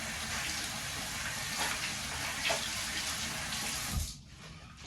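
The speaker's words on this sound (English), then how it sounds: "Just rinsing it again." Bathroom sink tap runs steadily while a face is rinsed after oil cleansing, a close, constant gush of water that stops near the end, leaving brief drips.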